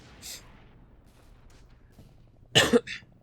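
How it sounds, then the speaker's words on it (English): A person with a bad cough coughs once briefly, then after a pause lets out a louder, harsher burst of two or three coughs close to the microphone, with quiet background between. "I've got a really bad cough at the moment"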